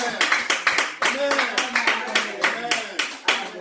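A church congregation applauding, steady rhythmic clapping from many hands kept up throughout, close and lively, with voices mixed in among the claps.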